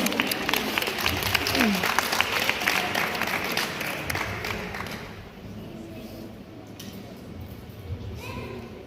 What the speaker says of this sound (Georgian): ოვაციებით შევეგებოთ ნენეს